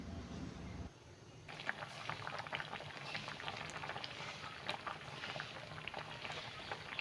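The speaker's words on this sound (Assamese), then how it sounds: "এতিয়া উতলিবলৈ দিম আঞ্জাখন।" A pot of curry bubbles at a steady boil, a dense close hiss of popping bubbles that continues throughout, with no talking.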